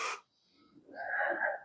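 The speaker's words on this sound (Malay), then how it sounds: "Ambil nafas dalam." A person takes a deep breath, drawing in a soft, airy inhale that swells and then eases out, quiet and close in an otherwise still room.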